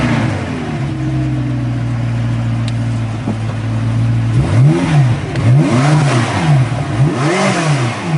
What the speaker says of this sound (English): I made that car sound like this.